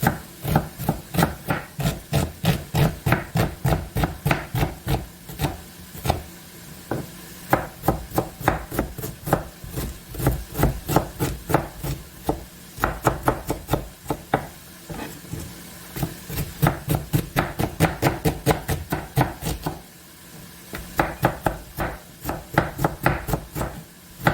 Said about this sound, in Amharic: ስለዚህ ጋር አንድ ራስ ሽንኩርት አለኝ። ይሄንን እንከትፋለን ማለት ነው።